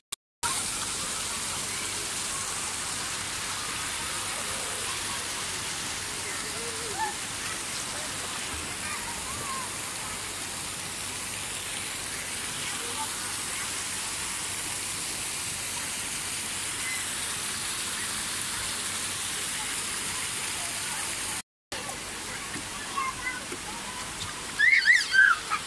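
A water shower at the Tropical Islands indoor water park in Germany, a continuous hissing spray of falling water that holds steady for over twenty seconds, with brief cut-outs and some faint activity near the end.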